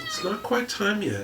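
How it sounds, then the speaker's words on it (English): Someone speaks indoors while his pet cat meows loudly and insistently beneath and between his words, close to the microphone. "that's my cat."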